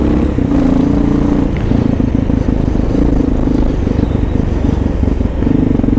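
Kawasaki KLR650 second-generation motorcycle fitted with a raising link, its single-cylinder engine droning loudly and steadily under wind roar as it rides at night.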